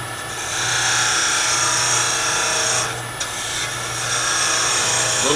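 A miniature wood turning being parted off on a lathe with a modified hacksaw-blade tool, giving a close, sustained rasping scrape with a brief break partway through under a steady motor hum, with no talking.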